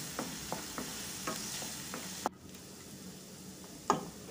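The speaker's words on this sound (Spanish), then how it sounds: "Agrego dos dientes de ajo cortadito y sigo sofriendo." Chopped garlic sizzles while being sautéed in a pan after onion, with a steady soft frying hiss broken by several scrapes and stirring knocks, quieter after a sharp clatter midway.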